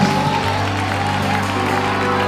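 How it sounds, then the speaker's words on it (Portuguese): A church congregation claps and cheers in worship, a continuous wash of applause and crowd noise over a low, steady musical hum. "Misture esse aplauso com barulho de glória."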